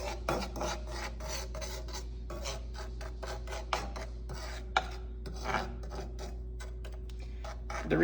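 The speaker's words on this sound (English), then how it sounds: "The reason that a chopstick is more used than any other utensil is due to the scraping." Chopstick scraping at dalgona sugar candy made with sugar and a pinch of baking powder, a steady close rasping rub running throughout with a few sharper scratches and knocks, no talk.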